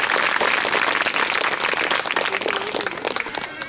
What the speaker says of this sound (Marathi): तर या 6 जणांचं आपण जोरात टाळ्या वाजवून स्वागत करू.